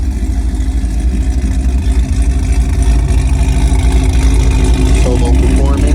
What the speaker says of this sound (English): What does a supercharged Camaro sound like when it's at idle?